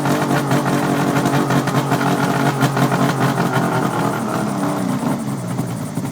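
A small two-stroke engine idles just after warming up with its choke, a loud, close, steady buzzing rattle that fades slightly toward the end.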